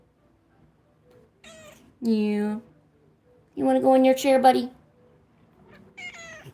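A pet cat named Genghis meows several times in short, loud, clear calls with pauses between them, while a person nearby talks to it softly.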